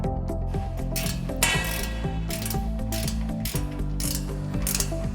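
Ratchet wrench tightening carriage bolts while assembling the stand of a Laguna 19-38 Supermax combination sander: rapid, continuous metallic clicking of the pawl in close, loud bursts, with no talking.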